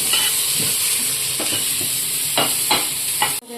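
Tomatoes hit onions already frying in a pan, a steady close sizzle with a few soft stirring scrapes, no voices.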